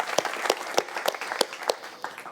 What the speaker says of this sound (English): Great release, applause for the guys.